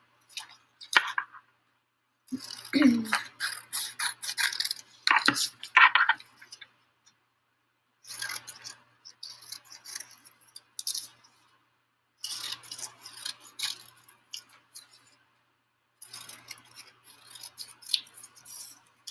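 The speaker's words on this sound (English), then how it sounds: "you are going to cut this whole box out around the outside" Scissors cut a paper box out around its outline, giving crisp snipping and rustling paper in bursts separated by short pauses, close up with no talking.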